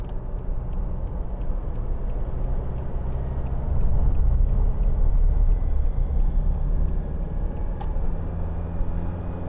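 A 2016 Toyota Hilux 2.5 D-4D Icon double-cab 4WD pickup on the move gives a steady low cabin rumble of engine and road noise, swelling slightly midway, with faint ticking.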